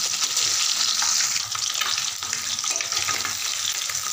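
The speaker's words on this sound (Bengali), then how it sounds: "মাছ ভাজা হয়ে গেছে, এবার নামিয়ে দেবো।" Fish frying in hot oil in a home kitchen while cooking a Rana fish recipe, giving a steady, close, loud sizzle and crackle with no talking.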